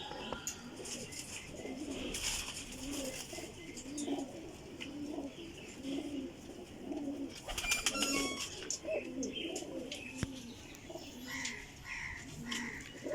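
Teddy Golden flying pigeons, kept alongside Rampuri birds, coo in a steady, repeating rhythm close by, with soft chirps and a brief flutter in the background and no one talking.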